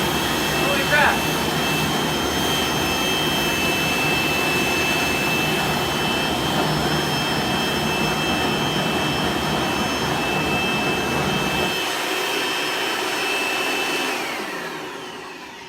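A natural gas ribbon burner roars with a loud, steady broadband rush and hiss that holds for about twelve seconds, then drops away as the flame is shut off, leaving a fading hiss.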